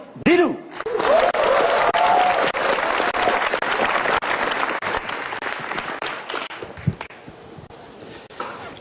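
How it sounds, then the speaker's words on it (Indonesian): A stand-up comedy audience breaks into sustained applause, with a brief voice and a few sharp sounds at the start, then a loud, even roar of clapping that gradually eases. "Beri tepuk tangan untuk"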